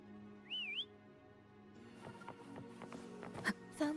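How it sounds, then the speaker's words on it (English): A short rising whistle rings out alone to call a companion in the Wuthering Waves video game, followed by quiet game ambience, faint footsteps and soft chimes. "Try whistling."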